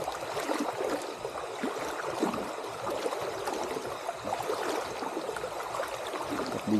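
Outdoor stream water flowing steadily at a riverside campsite along Marilaque, a continuous broad rushing wash heard close and even throughout, with no voices.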